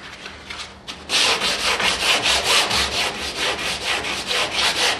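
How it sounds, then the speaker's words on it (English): A foam block with 60 or 80 grit sandpaper is rubbed over green resin on a sailboat hull, first in light strokes and then in a steady rhythm of close, scratchy back-and-forth passes. "I got a foam block and some 80 grit, 60 or 80 grit."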